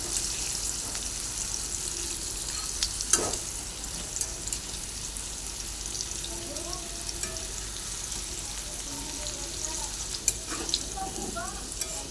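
Potatoes frying in mustard oil with a little salt, stirred in the pan: a soft, continuous sizzle with occasional scraping stirs and a few clinks, fairly quiet and close, with faint background sounds.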